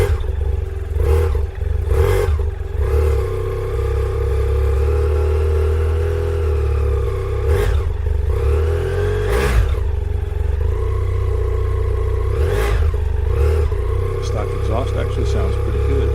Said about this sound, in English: This is the stock exhaust on the BMW F800S.